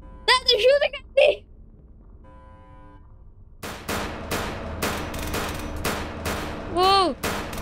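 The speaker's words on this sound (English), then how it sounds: "That is shooting at me." Gunfire in the game SCP Task Force: after brief game sounds and a pause, a steady run of sharp, fairly loud automatic shots crackles through, with a short electronic chirp near the end.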